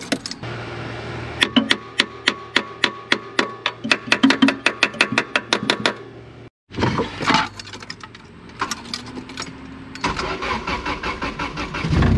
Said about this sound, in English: right now the car idles high, right? That's how it idles.